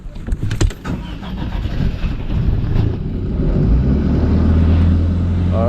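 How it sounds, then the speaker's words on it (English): Jet ski engine being started and then running, heard outdoors on the water with wind buffeting the microphone; early knocks and sputters give way to a loud, steady engine rumble. "So this is a Pakistani jet ski right here."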